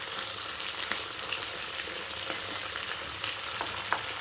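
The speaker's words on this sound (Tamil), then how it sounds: "நல்லா இந்த எண்ணெயிலே பரட்டி விட்டுக்கோங்க" Brinjal pieces stir-frying in hot oil, a close, continuous crackling sizzle with occasional sharper pops, no voices.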